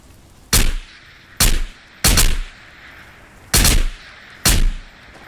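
Gunfire in the video game Ghosts of Tabor: five loud, sharp reports in an irregular sequence, each a sudden full-band crack with a short tail, separated by brief low ambient gaps.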